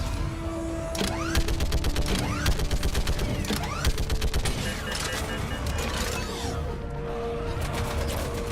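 Rapid bursts of gunfire from a firefight in the video game Mass Effect 3, dense repeated shots with sharp cracks layered over a steady roar of combat, loud and continuous throughout.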